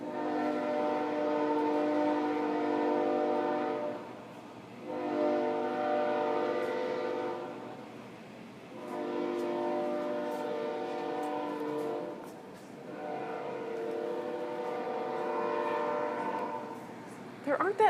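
Passing trains blow long, loud horn blasts at an intersection, four sustained chords separated by short pauses, with rumbling rail noise underneath.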